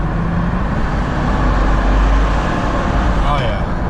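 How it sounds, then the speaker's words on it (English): A Jaguar F-Type R with a big V8 rumbles through a tunnel, a loud, steady low engine drone with a reverberant roar filling the whole stretch, close by. "F-Type R, big V8, big grumbling noises"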